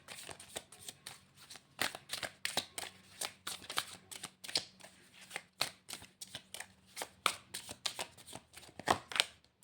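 Tarot cards are shuffled by hand in a quiet room, producing rapid, crisp riffling bursts and soft slaps in irregular rhythm, close and distinct with brief pauses between clusters.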